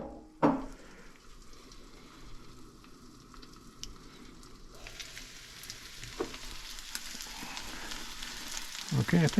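Eggs fry with cabbage in a pan, a steady soft sizzle close by with occasional clicks and a few louder knocks near the start and end. Nobody speaks.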